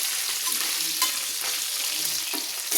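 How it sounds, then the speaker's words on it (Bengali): Fish heads frying in plenty of oil and being turned over, a loud close sizzle running throughout with brief stirring and turning scrapes, no talking. "এইভাবে মাথা দুটো আমি উল্টে পাল্টে কিন্তু ভেজে নিয়েছি।"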